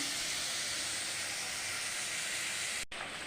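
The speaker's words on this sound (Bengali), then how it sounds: "মাছের ঝোলটাও আমার হয়ে গেল এই যে ফুটে উঠেছে" Fish curry simmering in a pot on a home stove, giving a steady, dense hiss of bubbling and steam that holds evenly throughout and breaks off briefly near the end.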